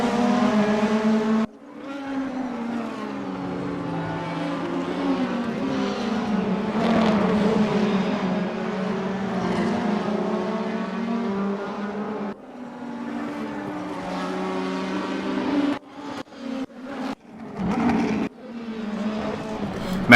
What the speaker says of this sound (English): the Audi of Ben Swarey is not far in the background of the fourth place BMW of Mark Minahan